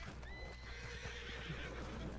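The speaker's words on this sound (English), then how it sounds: "Oh, horses! Nice!" Horses in the Red Dead Online video game neigh and whinny with clip-clopping hooves, faint and somewhat distant over a steady background hum, without speech.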